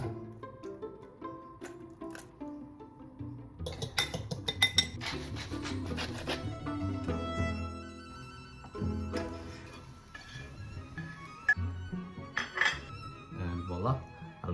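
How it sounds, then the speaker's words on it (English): Butter and two cracked eggs going into a stainless steel pan, with scattered metallic clinks, taps and scrapes of utensils against the pan, fairly quiet and irregular throughout. "Put the butter on, crack open 2 eggs."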